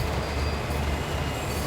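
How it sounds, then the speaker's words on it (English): A train under throttle in the railway game Train Sim World 2 rumbles steadily with a low, continuous engine and wheel drone and faint high squeal, heard alone. "Putting some more power into it"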